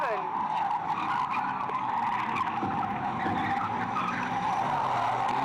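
A race car skids around the final bend at Fleet Raceway, a sustained tire squeal and engine roar heard from trackside over a steady crowd and commentary backdrop.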